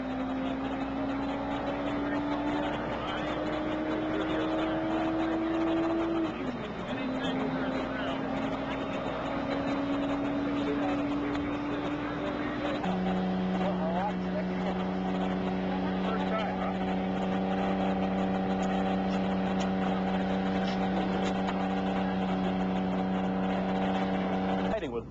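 Street motorcycles with a sidecar racing at about 100 mph on the Bonneville salt flats, a steady droning engine whine that shifts pitch and holds high, heard continuously with faint talk over it.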